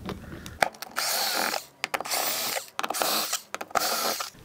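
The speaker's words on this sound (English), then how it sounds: "We're going to remove all four screws." A power drill unscrews the four screws from a Topper dinghy mast gate assembly in several short whirring bursts, close and fairly loud, separated by brief pauses and small clicks.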